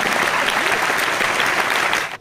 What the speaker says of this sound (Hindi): मैं बजाऊंगा ताली मां के लिए